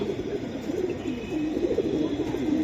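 Silver Giribaz pigeons coo continuously in a low, throaty warble, fairly loud and close, with several birds overlapping and no voices.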